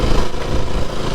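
Motorbikes passing on a rural road near a field of sheep, a loud, rough engine roar held close for the whole moment, with no speech over it.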